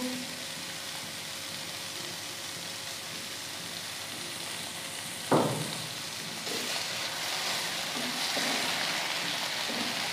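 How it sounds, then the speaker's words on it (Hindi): Food fries steadily in a pan with a constant soft sizzle. Midway a sharp clatter cuts in, and the hiss grows slightly busier and louder afterward; no voices. "इसको फ्राई कर लेंगे"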